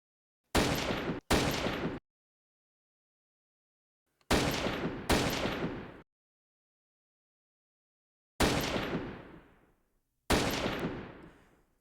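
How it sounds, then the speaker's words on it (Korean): Pistol gunshot effects from a Unity VR handgun shooting game ring out as five sharp, loud shots, two in quick pairs and then single blasts, each with a short decaying tail and silence between. "그게 총소리가 나니까 소리가 클 수도 있으니까 소리 조절하시고"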